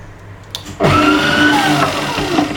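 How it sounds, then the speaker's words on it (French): An electric mixer with a whisk beats sugar, vanilla and egg whites in a bowl for langues de chat batter, whirring up loudly after a brief quiet moment and running steadily close by with shifting motor pitch. "On met notre bol de notre fouet et vous savez ce qui va se passer, on va mélanger."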